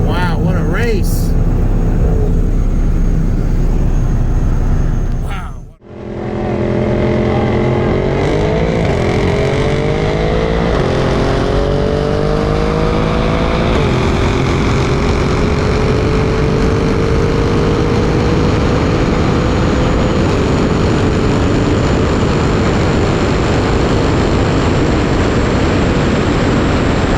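A 2018 Audi RS7 with exhaust and an OTS 93 tune races a 2021 Mercedes GT63 S AMG with bolt-ons on 93 octane. Loud engines rev and climb through gears, the roar stepping up and then settling into a sustained high drone.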